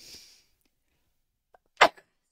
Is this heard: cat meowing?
no